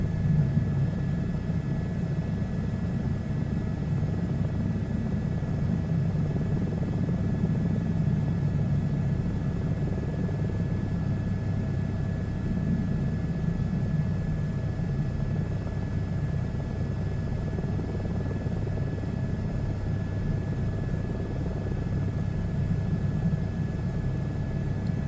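A helicopter in a VR flight simulator game drones steadily with a low rotor and engine rumble, constant and unbroken as it flies toward a landing into the wind.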